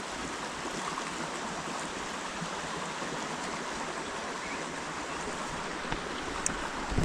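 A river near an African village flows with a steady, dense rush of water that stays even and continuous throughout, with no voices.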